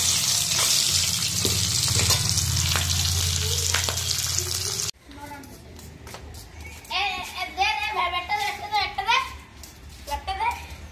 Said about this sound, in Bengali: এখানে শিং মাছগুলো ভেজে নিচ্ছি।